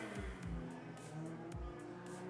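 Engine of a Mitsubishi Miata race car in the Open B category at an ENEOS RACS autocross event in Cebu, droning steadily with a few deeper pulses and revs, fairly close and alone without talk.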